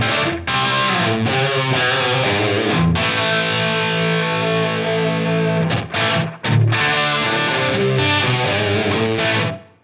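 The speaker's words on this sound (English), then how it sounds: "Almost a modulated reverb there." An electric guitar plays through the Cosmos delay on a Line 6 Helix, giving a loud, distorted tone with shimmering modulated repeats that wash together like a reverb. Sustained chords ring for several seconds, with brief breaks near the end.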